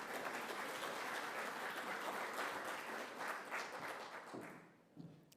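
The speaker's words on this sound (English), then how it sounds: "Another round of applause for Louise," Audience applause for a speaker at a petroleum policy consultation in Walvis Bay, dense steady clapping from the crowd that thins and fades out near the end.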